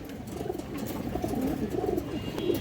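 Pigeons coo in a pen at close range, giving repeated soft, throaty, rolling coos that overlap, with a faint fluttery background.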